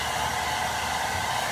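A hair dryer blows steadily at close range, a constant whooshing hum with no voices.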